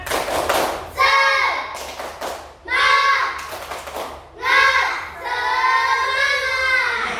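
A school class chants a rhythmic 'tepuk semangat' cheer in unison, the children's voices rising in three loud bursts over steady thumping claps and taps.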